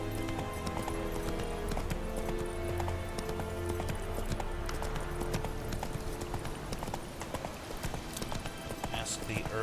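Roach the horse trotting in The Witcher 3: a steady, fairly quiet clip-clop of hooves over game ambience and music, with a voice speaking over it.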